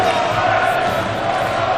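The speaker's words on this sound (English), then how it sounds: "The crowd are on his side, the Barney army are here." A darts crowd at the Grand Slam of Darts cheering and chanting for Raymond van Barneveld in an arena, a steady loud roar of many voices sustained throughout the short moment.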